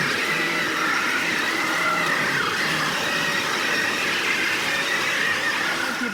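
Traxxas VXL two-wheel-drive Rustler 3S electric motor held at full throttle in a crawler stuck in mud, a steady loud whine with churning noise running unbroken throughout.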